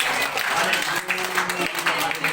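Worshippers clap together at a prayer meeting in Madhya Pradesh, the applause loud and continuous for a couple of seconds while a voice speaks over it.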